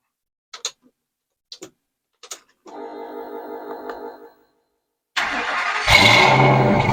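A few sharp ticks are followed by an engine idling with a light ticking knock, then after a short pause the engine starts and revs up loudly and close.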